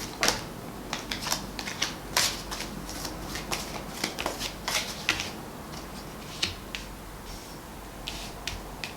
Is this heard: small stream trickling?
no